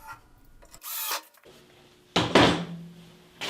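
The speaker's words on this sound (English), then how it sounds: "I drill holes in the 2 remaining L brackets and then attach the panel screws to hold it in place." Power drill driving panel screws into L brackets on a woodworking table, two separate loud whirring bursts with quieter shop noise between them and a third burst starting at the end.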